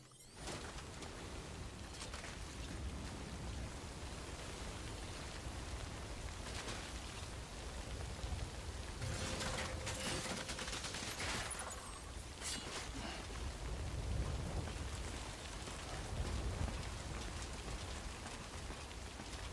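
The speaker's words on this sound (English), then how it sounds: "Timefall accelerates the passage of time for anything it touches." Timefall rain in the video game Death Stranding, a steady hiss of rainfall pattering on surfaces for nearly twenty seconds, with a few brief louder patches and no talking.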